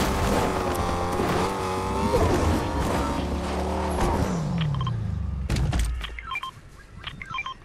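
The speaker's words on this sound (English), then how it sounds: "You guys hear the car?" A car engine in the video game Fortnite hums steadily with shifting pitch, then fades as short electronic beeps and clicks cut in near the end.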